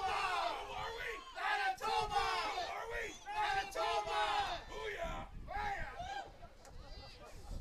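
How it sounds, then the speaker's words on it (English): Manitoba fans in the stands cheer and yell as a girls' U16 club championship soccer semifinal kicks off. A loud, sustained crowd roar with shouted calls fills the scene. "A cheer goes up from the Manitoba fans to our left as the game gets underway."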